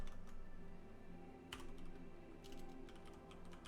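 Clacky keys being tapped on a computer keyboard while someone plays the online game Onigiri, with quick bursts of strokes near and fairly loud over a steady game-music background, no talking.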